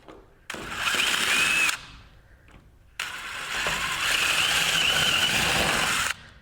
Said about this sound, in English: just clearance drill them, because there's so many layers and the rivet doesn't want to go in at all